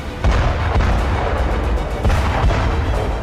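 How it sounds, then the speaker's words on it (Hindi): Heavy booms from shelling in the city of Mykolaiv in southern Ukraine, several loud blasts and thuds over a dense, rumbling background. "साउथ यूक्रेन के शहर मिकोलेव में सुबह सवेरे बारूदी धमाके होने लगे"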